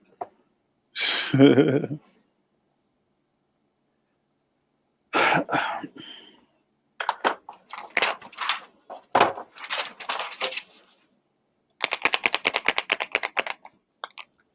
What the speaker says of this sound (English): Sounds like you're getting ready to spray paint something.